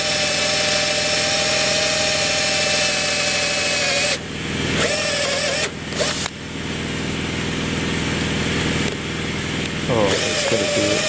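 A cordless drill whines steadily while driving screws out of a broken boat cap rail, pausing and restarting with a few brief stops and stuttering bursts, close up.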